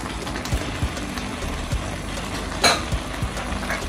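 Chopped onions hit hot oil in a pot for a spinach (gboma) stew with smoked turkey wings, giving a steady close sizzle with a few soft clinks and stirring knocks and one louder scrape partway through.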